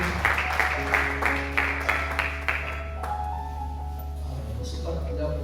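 A church congregation claps together during a service, with rhythmic applause over the first three seconds that then fades into a sustained organ or keyboard tone and soft murmuring.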